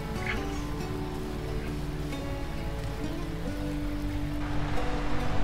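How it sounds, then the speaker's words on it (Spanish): Steady rain pours in the farming video game Lightyear Frontier, a dense, even hiss of drops running continuously with faint game tones underneath and no talk. "Mira cómo llueve"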